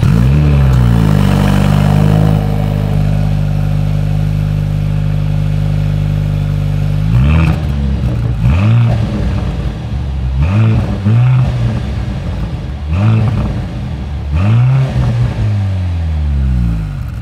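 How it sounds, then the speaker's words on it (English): A loud 2024 Mercedes-AMG C43 exhaust idles and then revs hard several times, sharp blips rising and falling close by. "As always, here is that exhaust clip."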